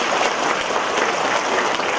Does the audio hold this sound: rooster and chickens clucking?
no